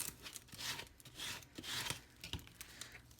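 Transfer tape is rubbed down firmly over a Haunted Mansion hitchhiking ghosts vinyl decal, giving quiet, close scratchy rasping strokes in uneven bursts with no talking.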